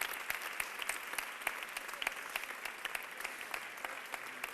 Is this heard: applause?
yes